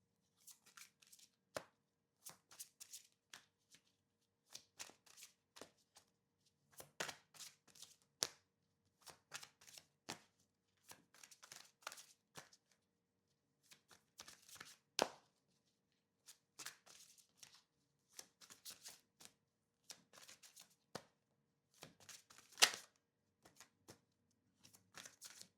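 Tarot cards being shuffled by hand in quiet, soft bursts of riffling and flicking, repeated in short clusters separated by brief pauses, with no talk.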